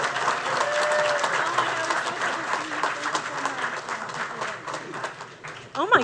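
An audience at a RECON Live 2024 conference session gives steady, dense applause to welcome a speaker to the stage. The clapping stays full and even for several seconds, with some voices mixed in, and it starts to thin out toward the end.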